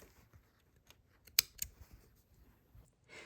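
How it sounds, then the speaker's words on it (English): Scissors trim sewing threads on a fabric gift bag: one sharp snip, then a second lighter one, close by in a quiet room. "trim those threads"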